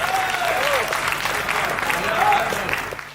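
Audience applause at a Hindi comic poetry recital, a steady wash of clapping from the crowd heard beneath a speaking voice for about three seconds.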